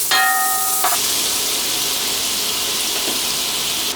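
Butter melting in a hot pan for a white sauce, a steady bright sizzle that holds evenly for several seconds after a short opening tone, loud and close with no voices.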